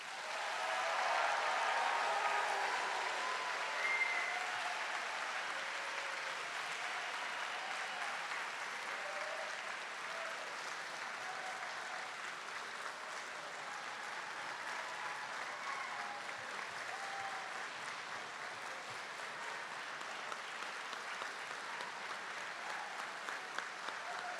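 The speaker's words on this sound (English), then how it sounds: "Let's give them all a round of applause." Audience applause at a medical school hooding ceremony, sustained clapping from a large crowd that starts full, eases slightly and continues evenly for the whole stretch with no talk.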